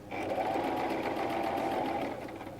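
Domestic sewing machine running fast and continuously, stitching elastic into the waistband of a pair of pants, a close, steady mechanical whir that eases off slightly at the end.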